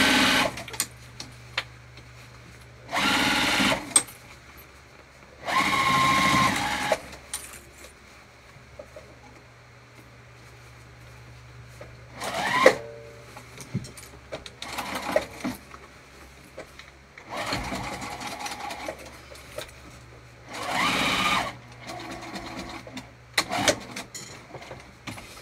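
A sewing machine top stitches a crossbody bag in several separate runs of steady whirring, each a few seconds long, with quiet handling noises in the pauses between them.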